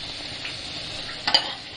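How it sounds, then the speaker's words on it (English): Masala frying in a pan for green peas curry, a steady soft sizzle with a brief stirring scrape near the end, alone and close. "The masala is fried now."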